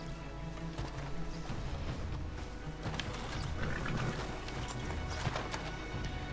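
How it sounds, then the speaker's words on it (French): Horse hooves clip-clop at a walk through a town street in the video game Red Dead Redemption, faint and continuous under low background game ambience, passing by. "il y a un cheval qui aimerait bien passer"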